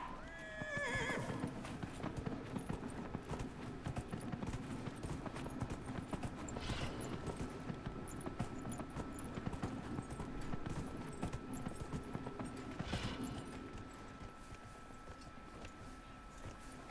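A horse gallops at a steady rhythm in the Dragon Age: Inquisition video game, hooves pounding continuously under outdoor ambience, with a short whinny at the start and brief louder swells along the ride.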